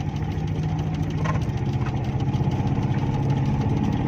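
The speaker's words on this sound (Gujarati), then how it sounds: "આપણી ગાડી આરામથી નીકળી ગઈ છે." A car engine hums steadily with a low, throbbing drone as the car moves along a rural road in Gujarat, constant and close throughout.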